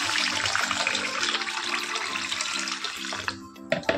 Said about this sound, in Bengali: তার আগে চালটাকে একটু ধুয়ে নিই।